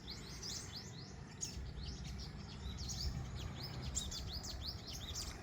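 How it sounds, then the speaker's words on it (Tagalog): A crowd of birds on a farm keeps up dense, overlapping chirps and tweets, with rapid bright calls over a constant low outdoor rumble. "Maraming ibon dyan."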